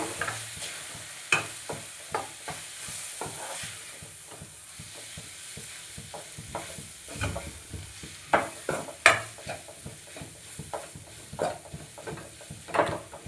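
A mushroom gravy base fries with coriander powder and spices, giving a faint sizzle beneath repeated scraping strokes of a spoon stirring in the pan, close up and uneven in rhythm.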